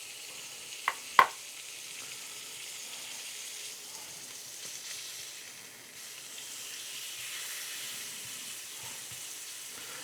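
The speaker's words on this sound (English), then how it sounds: "I'm just going to fry it about a minute on each side just to get it nice and golden." Halloumi slices fry in a pan until golden, a faint, even sizzle running throughout, with two sharp clinks near the start.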